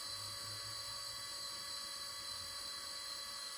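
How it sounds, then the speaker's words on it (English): A small hydraulic pump inside a 1/14 scale RC4wd bulldozer whines steadily and faintly, a thin high-pitched drone with a low warbling undertone that rises and falls briefly. "You can hear the sound of the pump."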